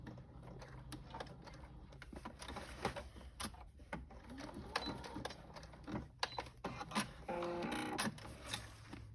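A sewing machine stitches a fabric book sleeve, its steady mechanical whir and chatter running throughout, with a denser, louder run of stitching toward the end.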